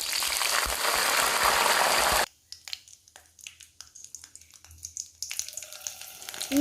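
Dried red chillies and curry leaves dropped into hot oil, a loud, dense sizzle that cuts off abruptly, followed by softer crackles and spits, then a renewed burst of frying.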